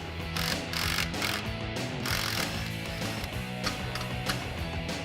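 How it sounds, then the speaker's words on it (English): A hand ratchet loosening the lower shock bolts on a Jeep Wrangler TJ during a suspension lift, with rapid clicking in repeated bursts of strokes, close and clear, with no talking. "First, we will be removing the lower shock bolts."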